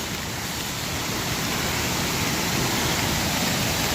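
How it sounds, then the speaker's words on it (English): A waterfall seen during rainfall makes a loud, unbroken wash of rushing water and falling rain, close and steady for the whole stretch. "So we're about to see this waterfall while it's raining."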